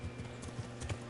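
Horse hooves clip-clop in the game Kingdom Come Deliverance, a quick, even series of close, soft thuds over a low ambient bed.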